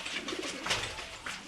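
A pigeon coos briefly and softly against background noise, giving a short, low call close by.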